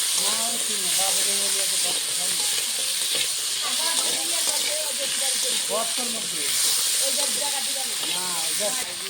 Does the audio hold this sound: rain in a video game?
no